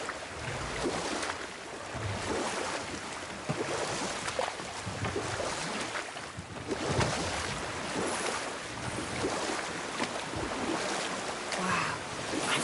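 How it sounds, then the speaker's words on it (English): A huge waterfall in a video game gives off a constant, broad roar of rushing water, steady and moderately distant throughout with no breaks. "I've never seen a waterfall so big."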